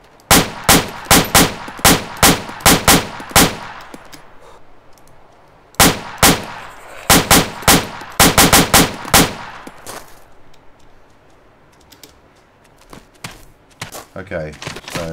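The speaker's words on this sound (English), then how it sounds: "a lot of the guns do sound like this. It sounds like a snare drum" Gunfire from Arma 2 with the JSRS sound mod: loud bursts of sharp, snare-like shots in quick clusters, pausing and resuming several times, then trailing into quieter scattered reports and background rumble.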